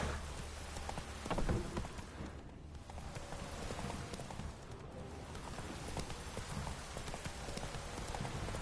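Hooves of Roach, Geralt's horse in The Witcher 3, clip-clop at a steady gallop amid rain pattering on the ground, with a continuous wet ambience and no voices.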